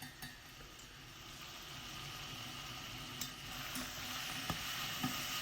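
Beef browns in a pot for a slow-cooked curry, giving a soft continuous sizzle with faint crackles and occasional stirring clinks, quiet and steady without talk.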